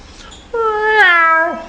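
A man imitates cats fighting with his voice, giving one drawn-out, nasal meow that rises and then falls over about a second, heard alone and fairly loud.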